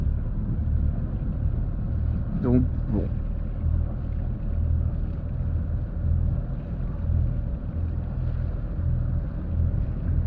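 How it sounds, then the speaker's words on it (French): A boat engine left running while moored at anchor produces a steady low rumble throughout, close and continuous, with a brief spoken remark over it. "C'est quand même un des pires trucs de devoir laisser le moteur comme ça allumé au mouillage"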